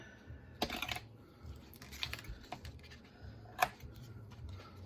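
Tear-and-tape strip being pulled along the die-cut edge of a card Christmas cracker box, heard as a few short, crisp ripping bursts separated by quiet pauses, close and fairly faint.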